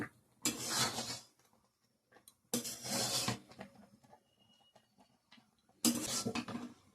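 A knife cuts through a freshly cooked birthday dish, heard as three separate scraping, clinking bursts of about a second each, with quiet pauses between them and no talking.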